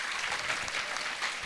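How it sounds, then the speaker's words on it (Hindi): Students at a school in Jhalawar clap together in a brief, fairly faint burst of dense, even applause with no talking. "एक बार अपने लिए ताली बजा दीजिए।"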